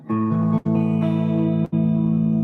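Sustained electric guitar chords with a shimmering, wavering chorus effect on the reverb trail, struck three times with short breaks between, loud and close.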